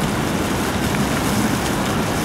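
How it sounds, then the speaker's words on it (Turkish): Steady broadband hiss of rain falling at a campsite in Croatia, continuous and even throughout with no distinct drops standing out. "Şu an yağmur yağıyor."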